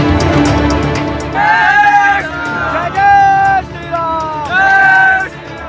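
Huge crowd of barefoot pilgrims on the Ayodhya 14-kosi parikrama route, a dense hubbub of many voices with bursts of chanting or singing rising over the continuous crowd murmur.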